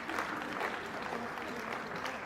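An audience at an Africa Public Service Day event claps steadily for a professor about to speak, a continuous, moderately distant patter of many hands with no break.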